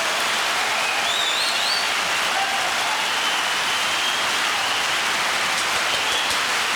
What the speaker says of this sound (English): That applause is loud as hell.